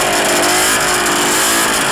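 A loud, buzzy two-stroke vintage snowmobile engine revs hard and continuously, close by, its raspy whine filling the whole clip.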